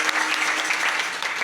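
Dense, steady applause from an audience at a kirtan devotional gathering, many hands clapping continuously and fairly loud throughout the short burst.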